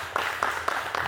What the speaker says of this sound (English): big round of applause to the staff here